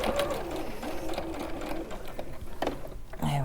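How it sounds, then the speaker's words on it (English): A domestic sewing machine running steadily while top stitching a zip, its needle whirring and clattering continuously at close range, with faint background voices. "So I've got one side of the zip in. I'm just top stitching."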